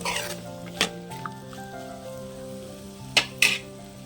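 Green peas curry stirred in a pan over low heat in a village-style Telangana kitchen, giving a soft steady sizzle with a few sharp scrapes and clinks of the spoon against the pan, close and fairly quiet.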